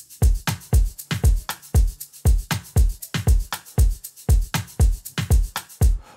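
Afro House drum loop with the kick drum back in, booming low kicks driving a steady groove alongside bright percussive hits, loud and close, repeating evenly throughout.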